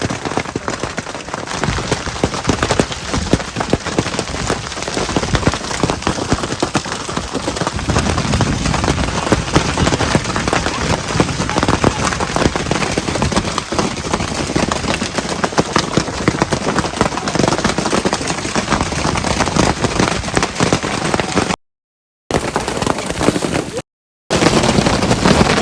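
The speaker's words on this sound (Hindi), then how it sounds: "थोड़ी देर बाद ये बारिश ओलों में कन्वर्ट हो गई जिनकी साइज़ स्टार्टिंग में काफ़ी छोटी थी, पर कुछ टाइम बाद ये ओले काफ़ी बड़े गिरने लग गए थे।" Steady rain mixed with hail pours down on a mountain trail during the Kareri Lake trek, a dense, continuous patter close to the microphone with some wind buffeting, briefly cutting out twice near the end.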